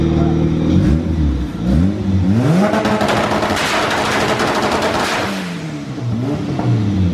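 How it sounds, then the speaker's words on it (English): A race car on a two-step launch control revs hard in repeated rising and falling sweeps, with rapid machine-gun-like exhaust pops and crackles, loud and close throughout. "Alright, we're gonna do the two-step now."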